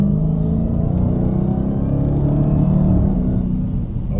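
A 2019 Dodge Hellcat's engine roars in a loud, deep rumble during a quick pull, a heavy low growl held steadily from inside the car with no talk.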